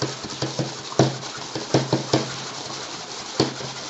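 Fuel and two-stroke oil shaken together in a container to premix them, giving close, irregular knocks and sloshing thumps in quick uneven bursts with no voices.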